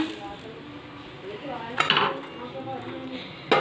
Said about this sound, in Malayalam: ഇനി ഇത് തിരിച്ചിട്ട് നമുക്കിനി അടുത്ത പ്ലേറ്റിലേക്ക് മാറ്റി കൊടുക്കാം